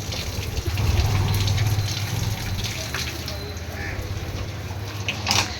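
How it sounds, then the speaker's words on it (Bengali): Water filling from a tap outdoors in a Bengali village home, a steady low gushing and splashing close by that runs throughout, with faint background sounds. "এখন জল ভরছে দেখো এই জলে রান্না হয় মিঠাই স্নান হয় এই জল খাওয়াও হয় আমাদের"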